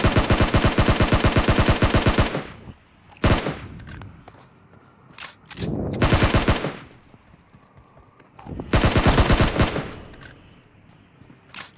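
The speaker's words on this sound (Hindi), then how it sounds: "आगे मेरे को गोलियों की आवाज़ आती है" Bursts of rapid automatic gunfire in a video game, three long volleys with a few single shots between, loud and close.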